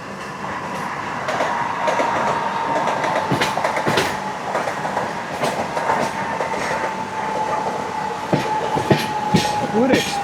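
A Kerala Sampark Kranti Express runs on rails near Panvel, its steady rumble and track noise continuous throughout, with faint wheel squeals toward the end and some talk in the background.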